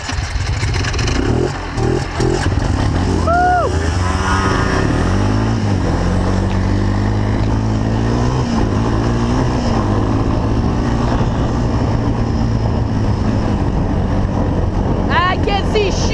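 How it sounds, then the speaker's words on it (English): Jet skis ridden over dirt instead of water, engines droning steadily and revving loudly throughout, with a rattling clatter and shifting pitch as they move, while people shout and talk over the noise. "Jet skis on the dirt."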